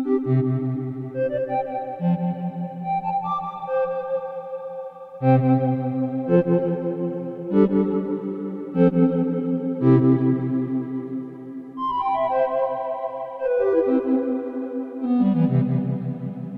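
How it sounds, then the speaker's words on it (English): Electric guitar played through vibrato and reverb, with a Marantz PMD-221 cassette recorder used as a tape delay: plucked notes and chords ring out continuously, wide and washy, with wavering pitch and long overlapping tails. "We'll turn on the reverb we've got over there and play around with it a little bit more."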